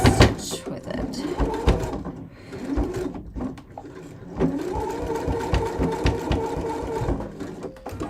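A sewing machine runs a twin needle stitch on a fashion garment, whirring in close mechanical bursts and a longer steady run, with a voice heard at times.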